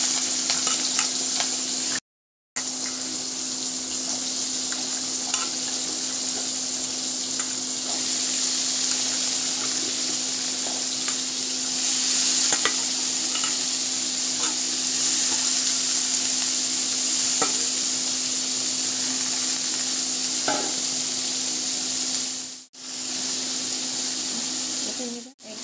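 Chopped capsicum, potato and onion frying in a kadai, with a steady close sizzle and occasional stirring scrapes running throughout under a constant low hum and a brief dropout.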